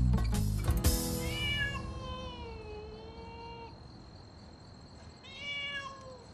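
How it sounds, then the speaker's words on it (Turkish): A cat meows several times in drawn-out, wavering cries, fairly close, with a pause before a final meow and faint insect chirping behind. "İçeriden kedi sesi geliyor."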